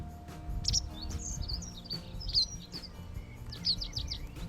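Several birds chirp and trill in short bright phrases, fairly close, over a low steady rumble of background noise, on a highland plateau in Trabzon, Turkey.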